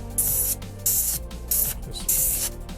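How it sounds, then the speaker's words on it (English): An airbrush blasting air to clear dust off a freshly printed resin miniature, four short hissing bursts of spray in a loose rhythm, close and loud, with a faint hum underneath. "Now I use my airbrush just like as a dust machine"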